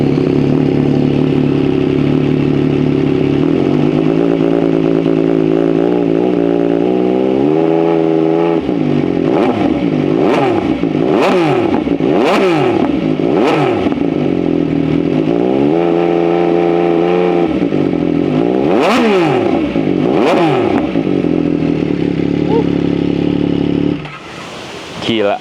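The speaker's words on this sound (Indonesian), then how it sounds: "suara kayak trompet, bener-bener kayak trompet, 3 silinder, nikmat dan sangat amat seksi" An MV Agusta Dragster RR three-cylinder motorcycle engine idles loudly nearby, then is revved hard in a series of sharp rising and falling blips with a brassy, trumpet-like howl before cutting off near the end.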